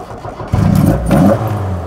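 A 1970s Fiat 131 Mirafiori Sport/Racing engine breathing through twin Dell'Orto carburettors roars in two sharp, close revs, with loud induction noise and no voices.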